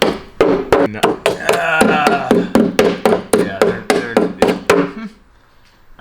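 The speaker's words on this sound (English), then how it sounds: "Set this with a hammer" Hammer blows on the front rocker panel of a BMW E39 M5 under restoration, a run of about a dozen sharp metallic strikes in quick, fairly even rhythm, close and loud, ending abruptly into quiet.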